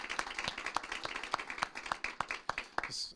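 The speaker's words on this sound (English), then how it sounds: "Another big round of applause," A small gathering at a city council meeting gives a sparse, quiet round of applause for Luz Gallegos and her team, heard as a few distinct, irregularly spaced claps, with a faint voice near the end.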